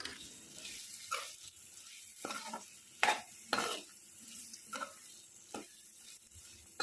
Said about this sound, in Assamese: মটৰ আৰু আলু গোটেইখিনি দি দিলোঁ কেৰাহীত। আৰু এতিয়া এইখিনি অকণমান সময়ৰ কাৰণে ভাজিব লাগিব ভালকৈ।